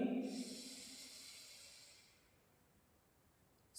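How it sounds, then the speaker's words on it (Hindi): Slow, deep breath during a beginner meditation session, a soft breathy exhale that fades gradually into near silence, close and quiet. "सांसों की आवाज सुनेंगे।"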